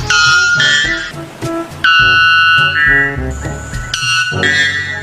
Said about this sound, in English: White bellbird.